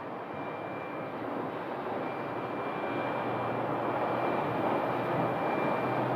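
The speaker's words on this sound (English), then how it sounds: "I was wondering how long it was going to take for an aircraft to pull into this gate" A jet aircraft pulling into a gate at Phoenix Sky Harbor airport, a steady loud engine roar and rumble with a thin high whine held throughout, no talk.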